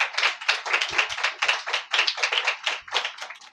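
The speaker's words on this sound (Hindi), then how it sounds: "तालियां चौथे छठे वालों के लिए।" A church congregation claps together during a sermon, many hands striking in a quick, rhythmic pattern of loud, close bursts that repeat steadily from start to finish.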